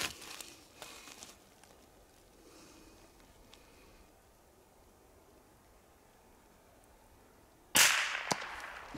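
A single sharp, loud crack from a small-caliber rifle fired while hunting black grouse in a quiet December forest, with faint rustling before it and a brief echo after.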